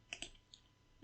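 A few quiet computer mouse clicks, two in quick succession and then a single click, alone and close in an otherwise silent room.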